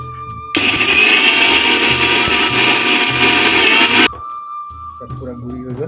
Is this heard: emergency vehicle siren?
no